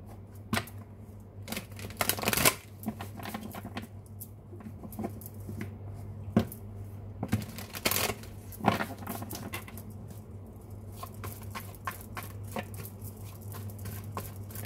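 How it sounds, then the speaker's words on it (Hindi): Tarot cards are shuffled by hand in short bursts of papery riffling and light tapping, close up, over a low steady electrical hum, with no talk. "पहले कार्ड्स को शफल कर लेते हैं फिर देखते हैं क्या आता है"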